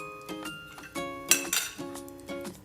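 A spoon scrapes and clinks against a pan while corn rice is mixed, a series of close metallic taps and ringing knocks in an uneven rhythm, alone without talk.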